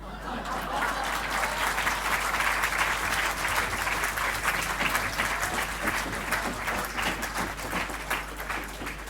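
Sustained, dense applause from a large celebration crowd at a Gitanjali Pearl event in Birmingham, steady and loud throughout with a faint murmur of voices and a low constant hum beneath.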